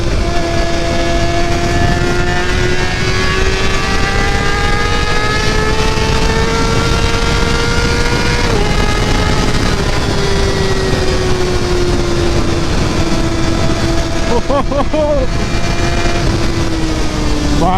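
A superbike engine screams at around 14,000 rpm, a loud continuous high-revving whine that rises steadily, dips sharply midway, then climbs and holds with a brief flutter near the end, heard up close with no talking.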